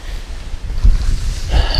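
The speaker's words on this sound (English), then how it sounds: "that wind starts hitting 40" Strong gusts buffet the microphone at a lakeside fishing camp, a rough low rumbling roar that swells and surges in uneven bursts.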